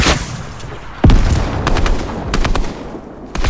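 AK assault rifle fire in a Fortnite match: a loud burst with a heavy boom, then a run of rapid shots and scattered pops, close and punchy, with no voices.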